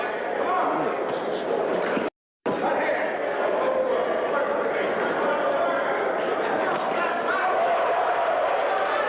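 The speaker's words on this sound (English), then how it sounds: "Crowd liked that a little bit." Boxing arena crowd at a welterweight U.S. championship bout, a steady, dense murmur of chatter and reaction that fills the space throughout, cut by one brief silent gap.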